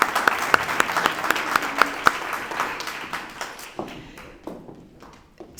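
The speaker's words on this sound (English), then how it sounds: "So let's give her a round of applause." Audience clapping at a Rotary character awards ceremony, a crisp round of applause with sharp individual claps up front that gradually thins and fades away.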